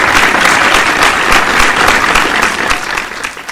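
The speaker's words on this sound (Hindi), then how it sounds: "ताली चलती रहे" Sustained audience applause fills a ceremony hall at the Netaji Subhas Chandra Bose Bravery Awards 2020, a dense, steady clapping that stays loud throughout and eases slightly at the end.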